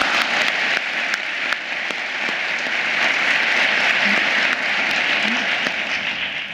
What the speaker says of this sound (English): Please give yourselves, staff of the U of M, a round of applause.